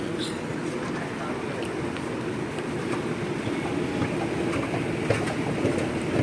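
Steady rumble and rattling of an MTR subway train in Hong Kong running underground, with faint clicks and muffled voices in the background.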